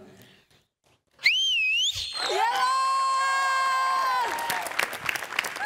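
On a Marathi TV comedy show stage after a performance, a loud, piercing whistle rises and wavers, then holds a long steady note before cheering and clapping break out.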